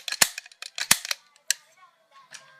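A toy gun fired several times in quick succession, sharp snapping cracks and clicky reload mechanism noises close to the microphone, tapering into fainter clicks.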